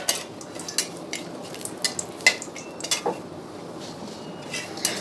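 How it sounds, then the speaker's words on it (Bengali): Bay leaves stirred in hot mustard oil in a pan for Bengali chicken curry, with light scraping clinks of a spoon against the pan and a soft sizzle underneath, close and quiet. "তেজপাতাটা ফোড়ন দিয়ে ভালো করে নেড়ে নেব।"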